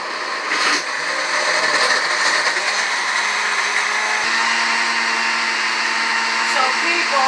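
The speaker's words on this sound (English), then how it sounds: "I'm going to put it on the blender. And start it. Put it on chop." A kitchen blender on the chop setting whirs loudly and steadily while blending a pineapple energy shake, its motor starting with a rising surge and then holding a continuous buzzing roar.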